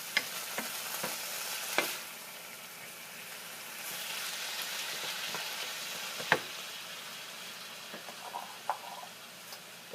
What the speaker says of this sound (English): I'll just mix this around. Get that basil all up in there.